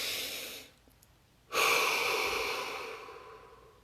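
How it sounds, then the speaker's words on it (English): Deep breathing during a guided relaxation session: a long breathy exhale trails off, then after a short quiet pause a strong inhale swells and slowly tapers, close to the microphone. "Take a deep breath."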